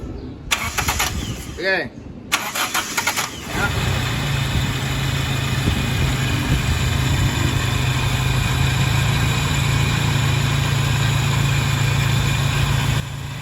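Toyota Tamaraw FX engine after a top overhaul cranks with whirring starter bursts, catches, then settles into a steady, close idle, while a voice speaks briefly near the start.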